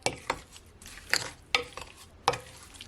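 Garlic butter steak bites being stirred in a hot pan, several sharp scraping and clacking utensil strokes against the pan at an uneven pace over a faint sizzle, close by.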